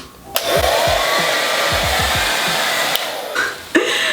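A blow dryer runs steadily at close range with a loud, constant whooshing whir, with a sharp switch click near the start and more clicks near the end.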